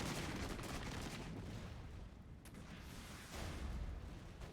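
Artillery fire in the strategy video game Regiments, a dense, continuous roar of booming shots and rumbling blasts that barely lets up, loud and close throughout with no voices.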